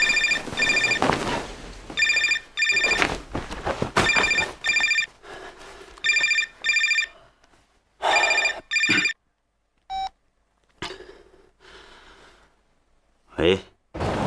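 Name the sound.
telephone ringing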